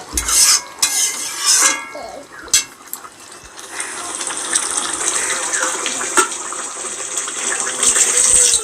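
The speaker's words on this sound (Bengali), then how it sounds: "আর জল দিয়ে দিলাম দিয়ে নাড়িয়ে আবার ঢেকে দেবো ঢাকনা দিয়ে" Katla fish curry with potatoes being stirred in a pot, a busy mix of scraping, wet sloshing and steady sizzling for most of the stretch, with a few sharp knocks of the spoon against the pot.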